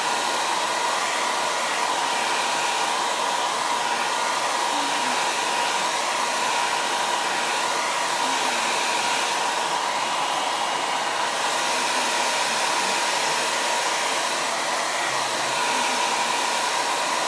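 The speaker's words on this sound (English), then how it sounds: "I'm going to just use my hair blower and dry this before I put on the next level." A hair dryer blows steadily and loudly for the whole stretch, a constant whooshing hum with a motor whine and no voices.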